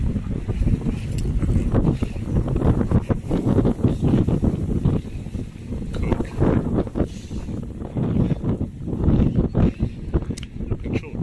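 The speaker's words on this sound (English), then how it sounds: "Windy, windy, windy." Strong wind buffets the microphone in heavy, uneven gusts, a loud rumbling rush that keeps surging and easing throughout.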